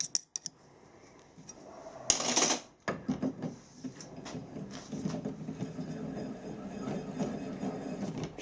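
Square-head bolts on an adjustable thread-cutting die are tightened at a workbench, giving scattered metallic clicks and a brief sharp clatter, then a run of uneven scraping and ratcheting, quiet and close.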